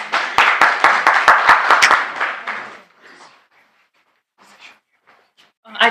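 Audience at a digital marketing training session clapping in sharp, close claps for about two seconds, fading to scattered faint sounds before a final soft burst.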